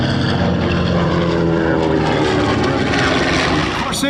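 A PBJ warbird, a propeller-driven military plane, flies past at an air show at MCAS Miramar. Its engine makes a loud, steady, rough drone that fills the whole clip.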